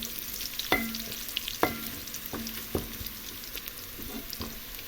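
Crushed garlic cloves sautéing with onion in a pan, a steady close sizzle and fry broken by four or five distinct clinks and scrapes of a spoon stirring against the pan, with no voices.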